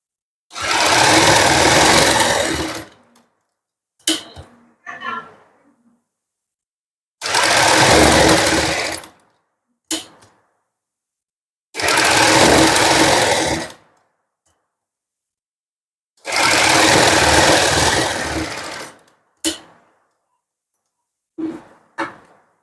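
A sewing machine stitches suit fabric around a garment neckline in four steady runs of about two to three seconds each. Short clicks and handling sounds come between runs, with no talk.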